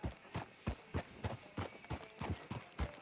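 Horse hooves clop at a steady trot in Red Dead Redemption 2 as a rider moves through a frontier town, the hoofbeats loud, close and regular, with no talk over them.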